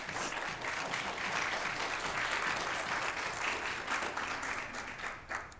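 Audience applause fills a school committee budget hearing, a steady, dense wash of many hands clapping throughout, with no voices over it.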